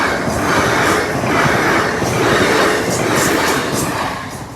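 A Class 802 train, unit 802-302, rolls past a level crossing, a loud close rumble of wheels with rhythmic clickety-clack swells as the carriages go by, steady throughout.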